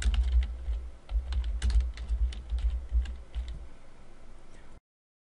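Fingers type on a computer keyboard while entering a vendor record in accounting software: rapid, uneven clatters of key presses in short bursts for several seconds, close and fairly loud, then silence.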